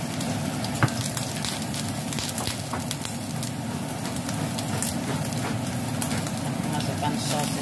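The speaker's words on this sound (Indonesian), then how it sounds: "Tumis sampai harum." Ingredients sizzle while being stir-fried in a pan of leftover frying oil, a steady crackling hiss that runs throughout with scattered pops and faint stirring clicks.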